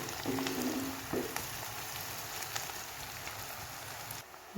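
Sliced onions for a Punjabi-style onion chutney fry softly in a pan, giving a steady, faint sizzle like light rain, with a few brief tonal clinks and no talking.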